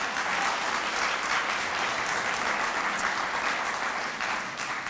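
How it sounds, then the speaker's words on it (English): A large audience applauds at an arts lecture, a full, loud and continuous wash of clapping that holds evenly from start to finish with no voices over it. "He gets a round of applause for that."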